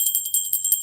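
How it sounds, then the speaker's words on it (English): A tiny silver bell rings in rapid repeated tinkles, bright, thin and close, with no voices over it. "It's a silver bell."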